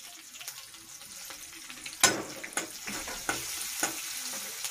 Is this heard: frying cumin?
yes